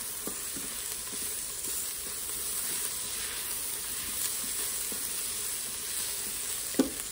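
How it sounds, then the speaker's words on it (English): Sage and thyme sizzle in melted butter in a home kitchen pot, giving a steady, even hiss of frying throughout, with a few faint clinks and one brief louder knock near the end. "once those herbs hit that butter and start sauteing in there too"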